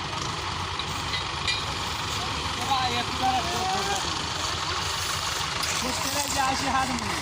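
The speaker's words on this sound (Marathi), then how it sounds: "तीन ट्रॅक्टर मागून लावले आणि एक समोरून आहे मागं रिव्हर्समध्ये ढकलायला" Several tractors, three pushing from behind in reverse and one in front, straining to move a stuck sugarcane trolley in a field; loud continuous engine rumble with shifting revs, heard alone and close.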